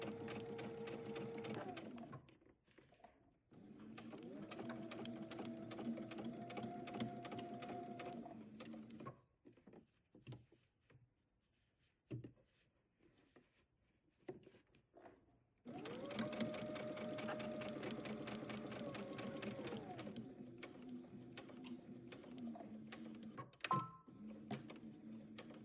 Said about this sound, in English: we will go to the sewing machine and we will stitch the shoulder seam from one end over to the other.